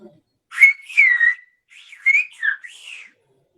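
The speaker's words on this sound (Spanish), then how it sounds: "Sílvame eso, a ver. Adiós y muchas gracias." A Silbo Gomero whistler from La Gomera whistles the phrase for goodbye and thank you: a run of sliding, high-pitched whistled syllables, close and clear, rising and falling in two short phrases with no talk.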